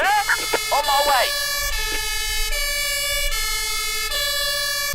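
Emergency vehicle sirens in the video game Emergency 4 wail and switch tones repeatedly, loud and close, with brief electronic yelp bursts at the start.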